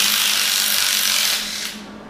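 Ratchet socket clicking steadily on a welded-on exhaust head stud of an LS engine, a continuous close mechanical chatter that softens slightly near the end, with no talking.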